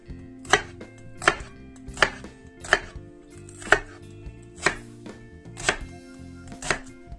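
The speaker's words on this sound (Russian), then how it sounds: "берем репчатый лук и режем его на крупный кубик." A knife dices onion into large cubes on a cutting board in steady, evenly spaced strokes, about eight crisp chops with no talking.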